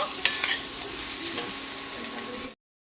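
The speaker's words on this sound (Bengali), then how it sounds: "এখন একটু নেড়ে ভেজে নেব" Spice powder and salt stirred and fried in a pan while making cutlets, with a steady sizzle and a few sharp scraping clicks of the spatula near the start, ending abruptly.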